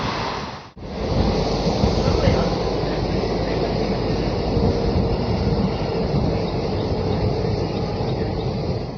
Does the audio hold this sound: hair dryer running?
no